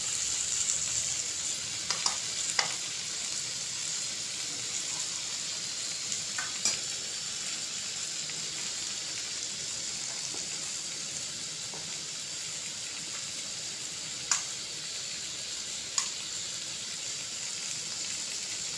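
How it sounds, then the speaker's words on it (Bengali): Water poured onto fried onion, potato and tomato in a pan for egg khichdi gives a soft, steady hiss and sizzle, faint and even throughout, with a few light clinks of a utensil. "এবার আমি এতে জল দিয়ে নিচ্ছি।"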